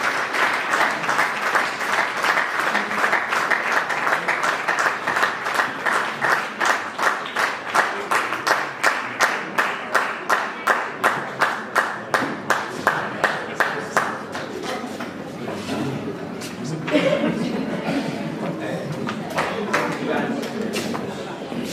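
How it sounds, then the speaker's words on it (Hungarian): Gala audience applauding a photographer, steady loud clapping from a large crowd for about fifteen seconds before it thins out and fades into murmuring. "tapsoljuk meg őt"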